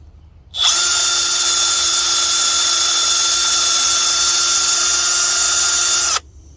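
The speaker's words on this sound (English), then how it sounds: "So I drilled all the way through the bolt, and now I'm through it." Power drill boring through a broken bolt, a loud, close, steady high-pitched whine that starts abruptly, holds at an even pitch for about five and a half seconds and then cuts off.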